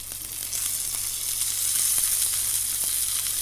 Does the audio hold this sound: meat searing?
yes